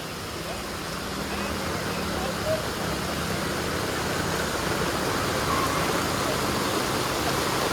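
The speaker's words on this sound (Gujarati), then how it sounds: "પાણી એટલું જોર કરે છે કે ચાલવાની આમ પગ બી મૂકી નથી શકતો" Strong floodwater from heavy rain rushes through the streets of Pasodara village, knee-deep, making a continuous broad rushing wash that stays fairly faint and steady throughout.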